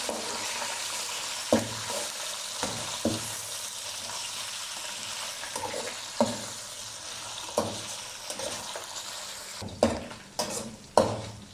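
Steady sizzling of mutton frying in a pan, punctuated by repeated scraping clinks of a spoon stirring, growing busier toward the end.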